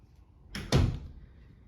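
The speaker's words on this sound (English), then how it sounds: "Let's close this door." An apartment door swings shut in a furnished Midtown Dallas apartment, a brief rustle followed by one firm thud of the latch and a short fading tail, close by and alone.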